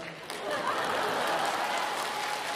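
A theatre audience at a Deyun She crosstalk New Year show in Beijing applauds in a dense, steady wash of clapping that swells after a moment and holds, with faint chuckles mixed in.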